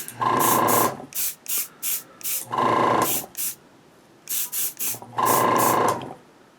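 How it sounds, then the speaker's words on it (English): Three long bursts of spray paint from a can hiss over a prop, each about a second or more, with short quick spritzes between them, close and fairly loud, no talking. "I'm going to spray the bottom of them"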